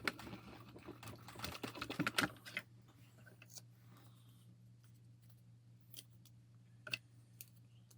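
Paper being cut for a Stampin' Up birthday card, a quick cluster of crisp snipping and slicing sounds close by for about two seconds, then quiet with a few faint clicks and handling noises.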